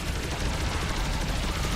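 Gunfire in the top-down video game Alien Shooter 2: a dense, continuous hail of rapid shots and explosions forming one unbroken roar, with no gaps between shots.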